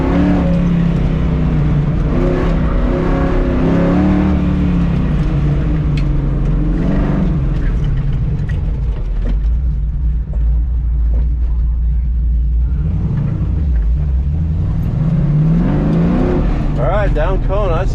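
A car accelerates hard on an autocross run at LS Fest, its engine loud and constant, rising and falling in pitch through shifts and corners. The engine drone fills the whole stretch without a break.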